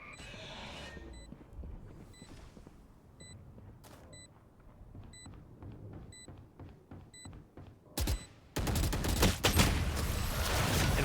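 Gunfire in a competitive Valorant-style school esports match: faint, sparse shots and regular ticking game cues early on, then a sudden loud burst of rapid firing near the end.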